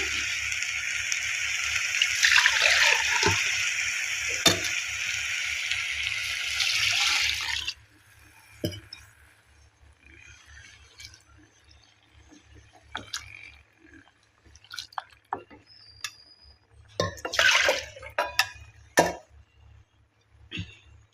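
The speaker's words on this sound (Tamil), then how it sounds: "ஒரு முக்கால் கப் அரிசி அதனால் ஒன்றரை கப் தேங்காய் பால் சேர்த்துருக்கோம்" Coconut milk is poured into rice in a pot for coconut milk biryani, a steady, close liquid pour lasting several seconds, then scattered soft clinks, drips and stirring knocks.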